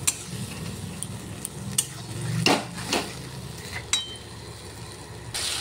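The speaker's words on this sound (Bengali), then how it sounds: "এখন ভেজে রাখা বেগুন আলু আমি মশলার উপরে দিয়ে দিচ্ছি। এটা এখন কিছুক্ষণ নেড়ে তারপর আমি জল দিয়ে দেবো।" Fried eggplant and potato being stirred into spice paste in a pan for a Bengali fish curry, with scraping spoon strokes, clinks against the pan and a low sizzle running underneath, close and moderately loud.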